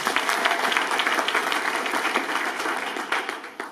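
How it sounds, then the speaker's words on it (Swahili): A church congregation gives warm, continuous applause for a discipleship class, many hands clapping in a dense, lively wash that gradually tapers toward the end. "Hebu wapigeni makofi."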